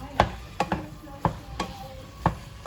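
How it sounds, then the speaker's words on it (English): Ground beef cooking down in a pan, stirred in several distinct scraping strokes spaced through the clip over a low, steady sizzle. "So we're just gonna cook our meat down."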